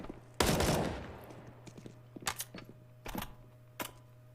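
Gunfire in Counter-Strike: Global Offensive during a Na'Vi versus Virtus Pro match, opening with a loud sustained burst of shots, then several shorter, sharper volleys spaced out over a steady low hum.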